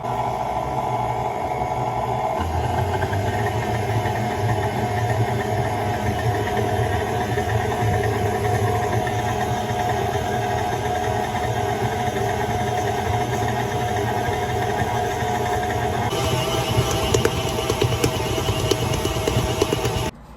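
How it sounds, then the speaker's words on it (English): A stand mixer kneads cinnamon roll dough, a steady loud motor drone with a rhythmic thumping churn that shifts slightly in pitch partway through, close and continuous without talk. "you have to start mixing it on low speed, and then once it starts getting incorporated, you raise the speed"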